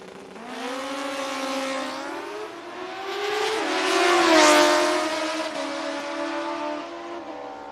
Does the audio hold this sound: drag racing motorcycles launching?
yes